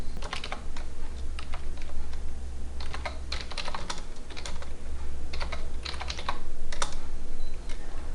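Rapid typing on a computer keyboard: bursts of quick, light key clicks in irregular clusters, close and fairly quiet over a soft steady background hum, with no voices.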